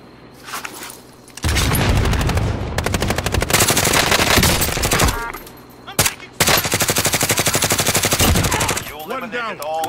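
Loud, dense automatic gunfire from Call of Duty Warzone, long sustained bursts of rapid shots with a brief pause, then more bursts and a tail with a faint voice-like warble.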